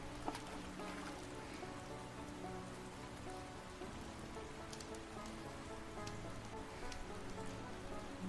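Steady rain falling in the video game Fishing Shop Simulator, a dense continuous patter with soft tonal game music underneath, no talking throughout.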